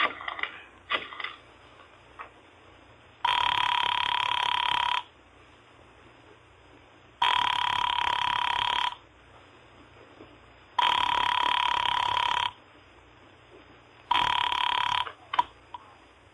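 A telephone rings four times in long, evenly spaced bursts separated by pauses, heard over a phone line with faint background noise.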